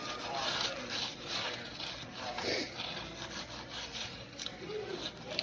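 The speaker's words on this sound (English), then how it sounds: "I'm just going to take some butter and we'll rub it up on top" Butter is rubbed over the top of freshly baked sandwich bread, making soft, scratchy rubbing and brushing strokes that come in an uneven rhythm up close.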